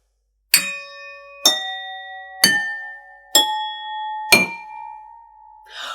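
Household crockery lined up and struck one after another, five clear ringing tings spaced about a second apart, each pitch higher than the last and left to ring out, with a faint sixth tap at the end.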